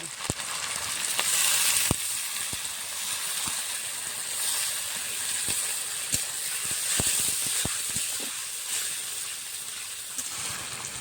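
Onions frying in a pan as ginger, cumin and dried chili pastes go in, for a Bengali rohu fish curry with potatoes; a constant close sizzle with scattered sharp pops and crackles throughout, no voices.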